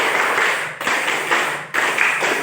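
A classroom group performs a rhythmic 'triangle clap' together in a fast, dense rhythm, the sharp hand claps running continuously with brief pauses between phrases.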